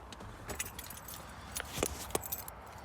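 Keys for a Mitsubishi Lancer Evolution 6 jangle close by, with a series of quick metallic clinks and rattles in uneven bursts over a soft background hiss, with no voices.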